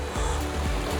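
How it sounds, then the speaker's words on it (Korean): Sea water laps gently on the sand at Jinneomeo beach on Sapsido island, Korea, a short steady wash of soft waves with no voices. "지금 이 찰랑거리는 바닷물 소리 들리세요?"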